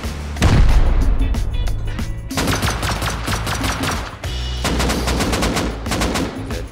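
Loud weapon fire in the survival game Rust, including a rocket launcher: a heavy boom near the start followed by dense rapid shots in long bursts, close and continuous, with no talk.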